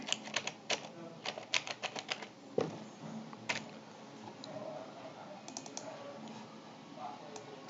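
Fingers type a folder name on a computer keyboard, a quick burst of crisp key clicks followed by scattered, softer taps and a faint voice underneath.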